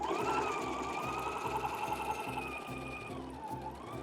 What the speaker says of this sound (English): Now I'm gonna sew up the other side, and this time I'm gonna start at the top.